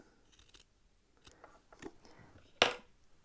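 Scissors trim a leftover end of T-shirt knit neckband, giving a few soft, faint snips and then one louder, sharp cut near the end. The sounds are close by, with quiet pauses between them and no talking.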